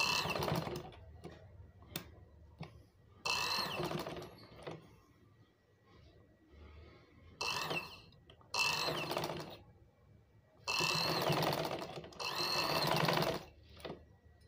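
Sewing machine stitching fine lace onto trousers, running in several bursts of rapid mechanical whirring separated by short pauses, close and clear with no talking.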